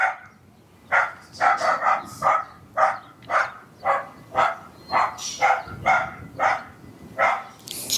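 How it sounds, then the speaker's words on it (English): A dog barks at a mailman in its yard, a rapid series of about a dozen loud, close barks in quick rhythm with brief pauses. "Dog doing his job to bark."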